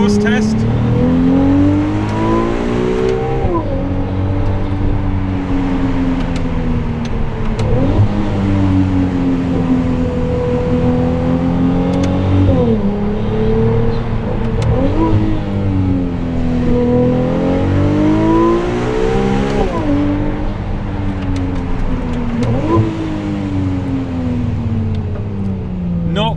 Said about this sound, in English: Small exhaust test.